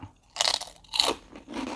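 A large, crispy, salty snack sheet is bitten and chewed up close, giving three loud, brittle crunches separated by short pauses, with no talking.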